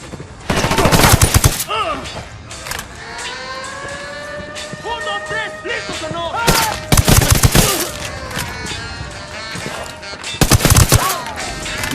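Ghost Recon Wildlands firefight with loud bursts of automatic gunfire in several separate volleys, a vehicle engine whining underneath between them.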